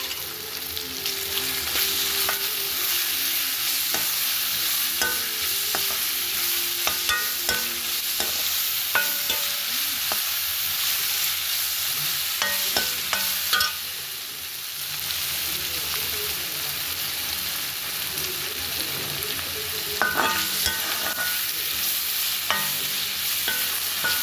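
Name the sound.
onions sautéing in a pan for quail gravy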